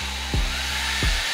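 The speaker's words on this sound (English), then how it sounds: "we are going to drill a pilot hole first with our little 7/64 drill bit" A drill bores a pilot hole into wood with a small 7/64 bit for a DIY kayak stand, a steady close whine with two brief bursts where the bit bites.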